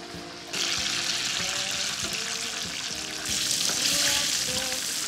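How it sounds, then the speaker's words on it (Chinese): Battered eggplant boxes coated in cornstarch deep-fry in hot oil in a pot, a dense continuous close sizzle that swells louder after the pieces go in and again as the heat rises. "全部下锅就可以转大火了"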